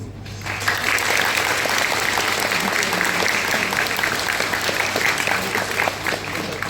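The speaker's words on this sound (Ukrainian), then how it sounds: "я хочу, щоб ми бурхливими оплесками привітали ваших батьків і вчителів" At a school graduation ceremony, an audience breaks into sustained, steady applause from many hands, a thick continuous clapping that starts abruptly and holds evenly at close range.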